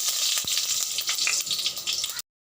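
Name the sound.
mustard seeds sputtering in hot oil in a kadai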